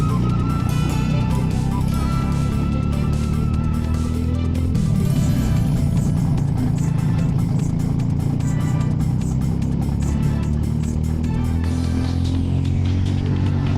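Racing kart engines buzzing and revving hard during a KCKA kart race, the near kart's engine climbing and dropping in pitch continuously with other karts close by, loud throughout.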